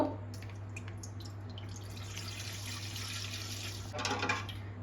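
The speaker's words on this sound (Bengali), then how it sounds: "এই যে কড়াইটার মধ্যে আমি হাফ লিটার দুধ নিয়ে নিয়েছি ঢেলে দেবো" Half a litre of milk is poured into a wok for homemade ice cream, making a quiet, steady liquid trickle and drip with a low hum behind it, a little louder near the end, with no voices.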